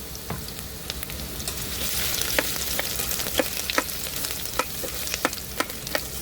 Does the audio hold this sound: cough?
no